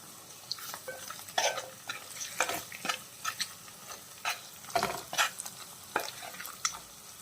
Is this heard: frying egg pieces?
yes